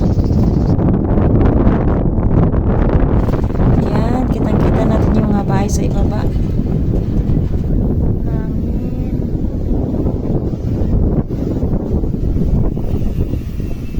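Wind rushes steadily across the microphone, a constant blustery roar under a person talking throughout.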